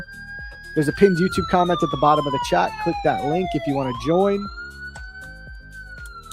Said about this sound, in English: That was a siren noise.